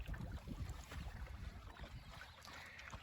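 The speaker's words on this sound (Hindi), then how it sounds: "पानी में देखिए तेप्पा का राइड कर रहे हैं हम लोग।" A round coracle boat drifts on a river near Kabini, with faint water lapping and splashing under soft wind rumble against the microphone, quiet and continuous without voices.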